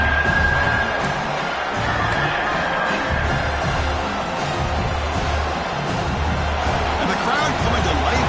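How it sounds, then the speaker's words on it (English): A football stadium crowd at a college game between Miami and South Carolina roars steadily as the defense holds in the red zone, a dense, continuous wall of cheering with an announcer's voice over it. "the crowd coming to life here, trying to help this defense down in the red zone."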